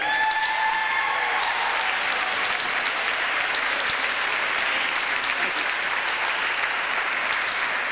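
A gymnasium crowd at a Little League basketball championship gives sustained applause for the league champion Bulls, a continuous wash of clapping that holds steady throughout, with brief voices audible at the start.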